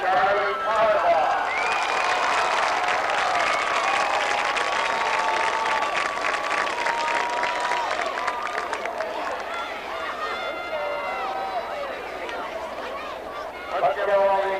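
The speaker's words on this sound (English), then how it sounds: "give all these lovely ladies and their escorts one more round of applause" Sustained applause from a large crowd at a 1992 high school football event, dense steady clapping that fills the room, with a few voices and cheers mixed in before it tapers near the end.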